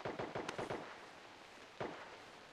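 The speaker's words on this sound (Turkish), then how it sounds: "Tabanca sıkıyorlar yukarıdakiler." Pistol shots from players positioned above in PUBG Mobile, a quick string of five or six sharp cracks followed after a pause by one more shot, all fairly faint and distant.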